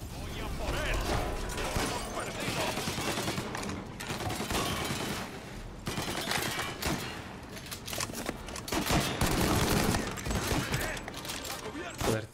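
Gunfire from a Mafia remake shootout, with a sniper among the shooters: dense, continuous volleys and sharp cracks over about twelve seconds, loud and busy throughout, with someone speaking at times.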